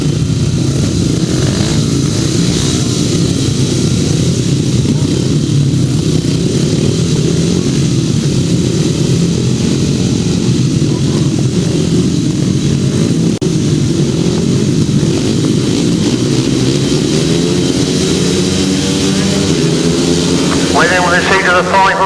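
500cc solo grasstrack racing motorcycles roar together in a steady, loud engine drone throughout, with an announcer talking over a public address system.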